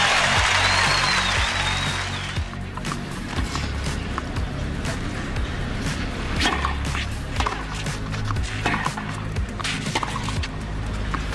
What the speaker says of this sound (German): Das Publikum springt auf, als sei die Partie bereits vorbei.